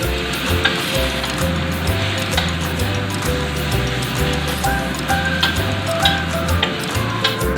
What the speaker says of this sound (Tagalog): At ilagay na po natin ang ating ground beef and pork. I-fry din natin until brown.